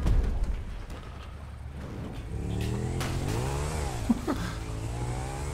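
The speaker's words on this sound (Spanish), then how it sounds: "Se me ha desbocado la moto." A motorcycle engine in GTA V, revving with rising and falling pitch sweeps over a steady mid-level engine drone, no talk.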